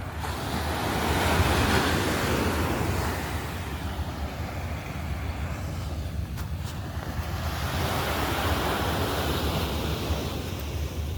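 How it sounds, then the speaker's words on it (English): Ocean surf rolls onto a beach at Long Beach, a continuous loud wash of breaking waves with rising and falling swells and wind rumbling against the microphone, no voices. "Aquí estamos en las playas de Long Beach."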